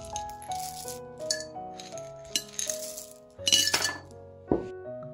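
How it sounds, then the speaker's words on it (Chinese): About 200 g of rose petals and 300 g of sugar go into a glass jar, producing bright rattles and clinks of grains striking glass, with louder clattering bursts partway through and steady tonal music underneath. "先把玫瑰花瓣放到瓶子里，这里花瓣大概是200克，加300克的糖。"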